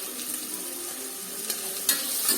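Onions frying in a pan for a vegetable stew, giving a steady low sizzle with a few soft stirring scrapes and one sharper clink near the end.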